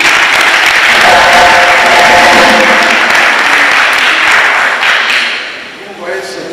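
A crowd at a PDCI-RDA political gathering applauds loudly, a thick sustained roar of clapping that gradually tapers off toward the end.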